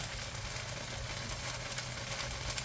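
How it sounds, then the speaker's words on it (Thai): Pork belly stir-fry with oyster sauce sizzles steadily in a hot pan, a continuous close, even hiss without voices. "ใส่น้ำมันหอยลงไป สองช้อนโต๊ะค่ะ"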